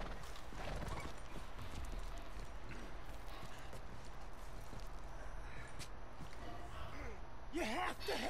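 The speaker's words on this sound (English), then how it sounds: "Acho que o cavalo acalmou já." Horse hooves clip-clopping steadily in the open-world Western game Red Dead Redemption 2, with a horse's whinny and a voice breaking in near the end.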